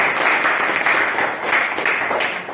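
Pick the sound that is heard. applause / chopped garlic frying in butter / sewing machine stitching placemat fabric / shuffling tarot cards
applause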